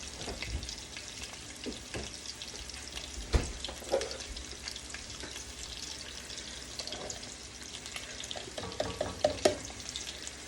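Onions softening in a hot pan, with a steady low sizzle and occasional scraping stirs, one sharp clunk near the middle, while pigeon meat is being cooked; no one speaks.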